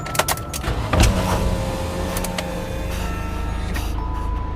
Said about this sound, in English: The window closes.